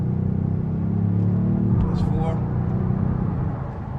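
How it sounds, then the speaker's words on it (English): The engine of a 2020 Kia Stinger GT2 sports sedan hums low and steadily as it is downshifted with paddle shifters, its pitch dropping briefly at one gear change beneath faint cabin noise. "that's 4, and you can hear the engine"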